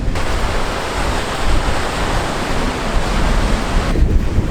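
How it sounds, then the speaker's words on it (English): Strong wind buffets the microphone on the Cornwall coast, a steady roaring rush mixed with crashing surf, loud and continuous throughout with no voices. "Sorry if it's a bit windy."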